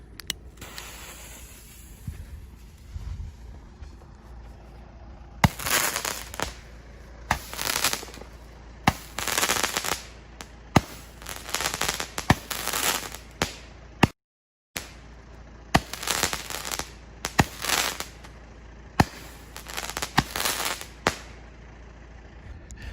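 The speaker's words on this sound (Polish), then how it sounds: "zaczniemy od rzymskiego ognia i możemy odpalać" A Roman candle firework from the Space Rocket TXR088 pyrotechnic set fires outdoors in a series of sharp pops, each followed by a hissing whoosh, about a dozen shots at irregular intervals with one brief gap.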